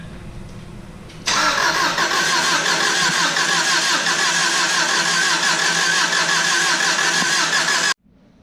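A Subaru engine makes its first start after a head gasket and clutch job, a sudden loud catch into a steady rough idle that runs for several seconds, then cuts off abruptly.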